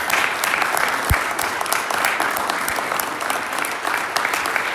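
Steady round of applause from guests at a Rotary Club football luncheon honoring cheerleaders, dense clapping running throughout at an even level.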